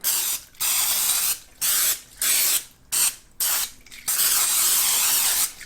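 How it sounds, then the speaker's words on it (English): Pam cooking spray hisses onto a baking dish in a series of short bursts, seven or eight quick sprays separated by brief pauses, close and fairly loud. "I've got some spray Pam, and I'm just going to give it a little spray."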